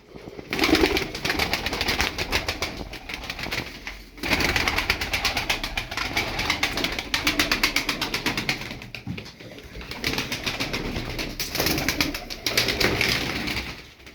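About fifteen tumbler pigeons coo continuously at close range, a dense rolling chorus with occasional brief pauses and a few wing flutters.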